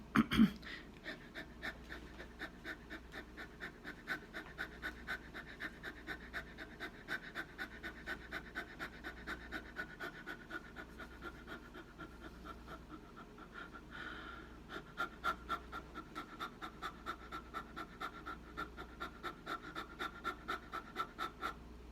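Steady, rapid panting by a person mimicking a dog, quick rhythmic breaths repeating for the full stretch, close and fairly loud.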